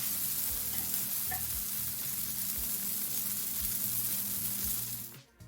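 A bammy bun made of yuca and coconut milk frying in a pan, a continuous even sizzle with faint low knocks, fading to a soft clatter as the bun is flipped over at the end.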